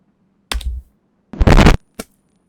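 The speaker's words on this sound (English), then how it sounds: "Is it because I'm clicking the A key? Is it picking up the A key click?" Computer keyboard key clicks sound close to a microphone right next to the keyboard: three separate sharp taps, the middle one longer and louder, with silence between them.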